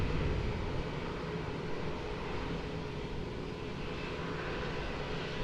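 An airplane at Lisbon Airport gives a faint, distant, steady engine roar, broad and unchanging, with no talk.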